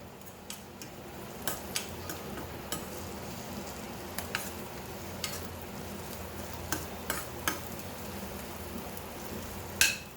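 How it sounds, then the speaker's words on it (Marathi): Masala sautéing in a pan with roasted onion, a soft low sizzle under repeated scrapes and clicks of a spoon stirring, fairly quiet and without talk. "चांगला परतून घेऊ मसाला आपण"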